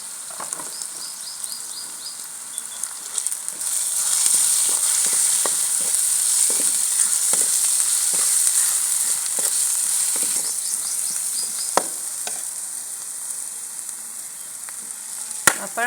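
Turmeric and garam masala roast in a hot pan with a steady, close sizzle throughout, interrupted by occasional clicks and scrapes of stirring.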